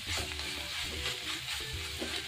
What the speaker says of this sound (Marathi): हे लो फ्लेमवर व्यवस्थित आता असं फ्राय करायचं आहे